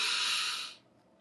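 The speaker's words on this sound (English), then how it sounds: "Take a deep breath with me." A single deep inhaled breath, close and breathy, that fades out with a short pause before the next breath begins.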